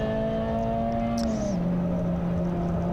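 Peugeot 205 race car at Anglesey circuit, a tin-top circuit race: a steady engine drone holds a high tone, then drops in pitch as the car passes by, with a faint tyre squeal near the middle.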